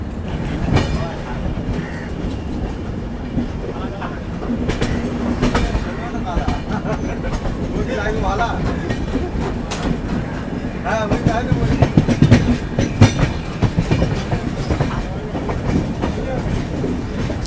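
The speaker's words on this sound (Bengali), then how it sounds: "ছেড়ে দিল আমাদের ট্রেন খুর্দা রোড স্টেশন থেকে।" Passenger train pulling out of Khurda Road station, wheels clattering rhythmically over rail joints with rumbling carriages, heard from inside the coach with occasional clanks and people talking nearby.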